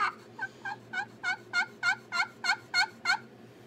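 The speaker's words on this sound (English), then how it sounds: "My favorite kind of call to use is a pot call." Eleven short, evenly spaced yelping turkey calls from a pot call with an acrylic surface, clear and fairly close, rising slightly in strength, over a low steady background hum.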